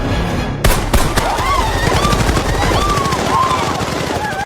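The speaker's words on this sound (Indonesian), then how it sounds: "Tembakan itu pun terdengar dengan jelas oleh Gasper" Rapid bursts of gunfire crackle loudly, rattling in quick succession over a dense background, with a voice speaking beneath the shots.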